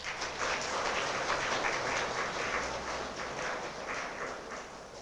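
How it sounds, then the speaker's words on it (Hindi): A church congregation at a worship service claps together, a dense, even wash of applause that carries on steadily for several seconds, somewhat distant and reverberant, with no voices standing out. "लोग जोर से ताली बजा दें।"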